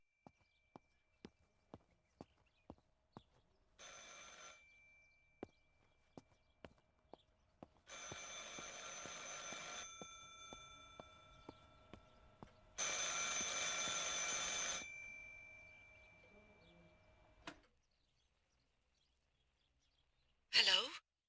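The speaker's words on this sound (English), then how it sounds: "I should pick up the phone but remain silent." In the video game Martha Is Dead, a telephone rings in three separate bursts spaced across a quiet scene, with a soft rhythmic clicking and footstep-like taps between them and no voices.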